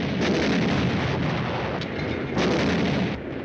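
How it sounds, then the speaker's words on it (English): Artillery in a 1951 war film thunders as heavy, sustained barrage rumbles with a few sharper blasts rising out of it, loud and continuous with no speech. "The artillery zeroed in on us."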